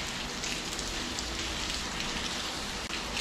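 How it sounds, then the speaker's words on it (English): Steady, dense rain falls on the streets of Istanbul, a continuous close hiss of drops hitting pavement with no voices present. "Alright, so it is actually raining quite a bit out here."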